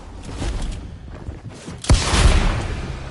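In a PS4 video game, a shadow bomb explodes with a sharp boom followed by a rumbling burst, set against scattered gunfire-like game effects and muffled action, with no talking.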